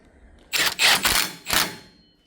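A camera snaps a few quick shutter clicks while photographing a set of tools on a Can-Am Maverick X3 wheel bearing job, close, crisp and alone in a quiet room.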